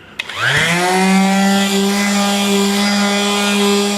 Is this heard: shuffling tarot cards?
no